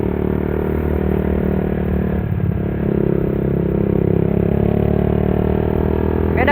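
A Yamaha Vixion motorcycle engine hums steadily on a test ride, loud and close, with a brief dip in tone midway before the even drone resumes.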